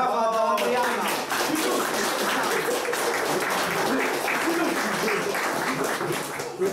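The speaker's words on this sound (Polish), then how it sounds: "Brawa dla Adriana" Applause at an awards ceremony for a season-ending motorsport prize giving, a dense round of clapping from the gathered crowd with a brief tonal voice fragment at the very start, then steady hand claps throughout.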